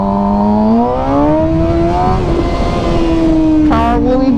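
A motorcycle's engine roars through a full-throttle power wheelie, its pitch climbing steadily and then holding high and loud, with a brief throttle blip near the end.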